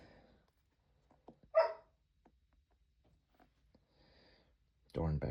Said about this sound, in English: Penny, can you stop barking?